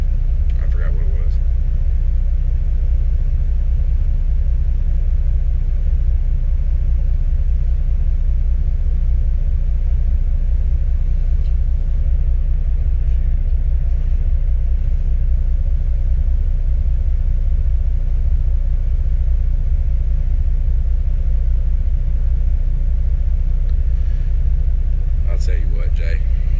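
A brand-new Kenworth T680 truck heard from inside the cab, giving a constant deep low engine rumble beneath the cab's ambience for the whole stretch, with a brief light rattle near the end.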